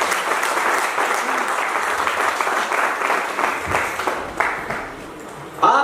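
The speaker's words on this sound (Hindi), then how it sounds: "अगर मेरी आप तक बात पहुंच रही है तो बिना कहे ताली बजाना।" A talk audience applauds in a dense, steady wash of clapping that holds for several seconds, fades briefly and then surges loud again at the end.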